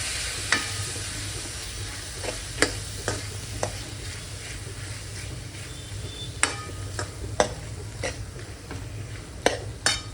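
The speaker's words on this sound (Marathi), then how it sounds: "परत चांगलं परतून घेऊया आपण हे." Bottle gourd pieces being stir-fried in a spiced masala, with a steady soft sizzle under repeated sharp scrapes and clicks of a spoon against the pan, no voices.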